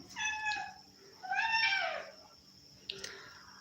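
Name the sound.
cat meowing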